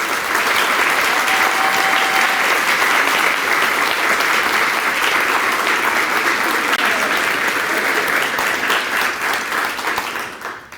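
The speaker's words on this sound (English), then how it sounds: "Please give them a round of applause." Loud, sustained applause from a large audience at an arts center ribbon cutting, dense clapping filling the whole stretch before tapering off at the very end.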